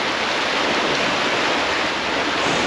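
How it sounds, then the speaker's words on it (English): Water rushes forcefully near a narrowboat in the Harecastle Tunnel area on a UK canal, a loud, steady broadband roar that never lets up. "Some force, the water."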